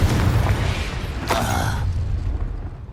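A Confringo explosive spell in the video game Hogwarts Legacy goes off amid ongoing combat effects, a single bright crackling burst at the midpoint over a dense, continuous rumble.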